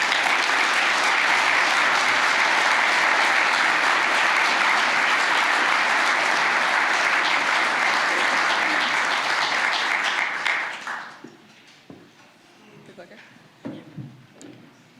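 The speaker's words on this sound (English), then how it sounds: "Please give another round of applause for Dr. Fawcett." A large audience at the USGBC-WM award ceremony applauds loudly and evenly for about ten seconds, then the clapping fades to scattered claps and room noise.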